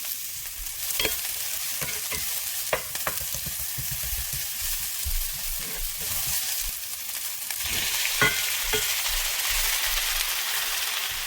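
Beef bulgogi and yellow onion fry in cooking oil, a steady broadband sizzle with occasional sharper crackles and stirring clatters throughout, no voices.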